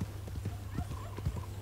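A large horse gallops in Red Dead Redemption 2, its hooves pounding in a quick steady rhythm, with a voice talking faintly underneath.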